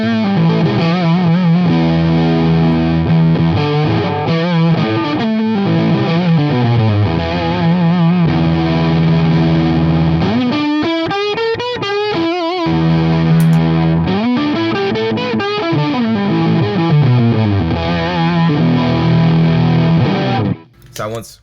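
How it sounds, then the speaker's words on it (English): An electric guitar runs through a Fuzz Face pedal, with and without a Klon boost hitting the amp's front end. Loud, thick distorted notes and chords with sliding bends play continuously, then cut off abruptly at the end. "If I turn on the Klon as a boost to hit the front end of the amp before the fuzz face, it smooths out the drive."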